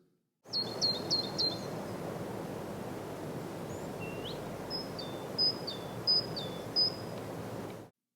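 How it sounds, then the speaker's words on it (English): Recorded birdsong played against a steady hiss: a quick run of four bright chirps, then a rising whistle and a series of sharp, high descending calls spaced a second or so apart. "to bring you a further feeling of peace, the sounds of birds"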